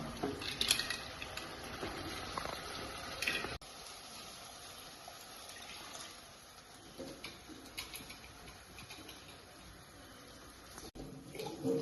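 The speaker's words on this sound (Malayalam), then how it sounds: "നമ്മൾ വെള്ളം ഒഴിച്ചതേ ഉള്ളൂ" Water splashes and pours steadily into a seafood curry pot, with a louder gush at the start followed by a softer continuous trickle and some sizzling.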